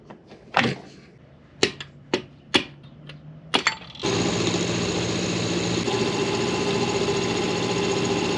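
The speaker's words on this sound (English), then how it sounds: "let's get it set up in the milling machine next" Metal part being cut on a milling machine in a home garage shop: a few sharp clanks and taps, then the spindle starts and a loud, steady machining whine continues to the end.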